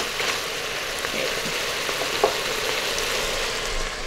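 Braised pork belly sizzling and frying in a pressure cooker for Taiwanese braised pork, with a steady continuous hiss and a few faint scrapes of stirring, heard up close with no talking.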